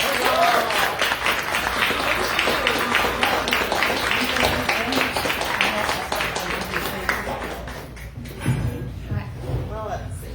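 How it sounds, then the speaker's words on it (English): A political party audience applauds to welcome the New Mexico Secretary of State at a county Democratic meeting: dense, steady clapping fills the room, thinning toward the end as a few voices and scattered claps remain. "I want you all to give a round of applause and a warm welcome to our Secretary of State"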